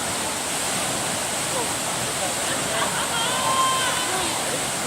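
Tegenungan Waterfall in Bali, with people swimming beneath it, gives a loud, steady, close rush of falling water, with faint voices and a brief whistle-like tone over the roar.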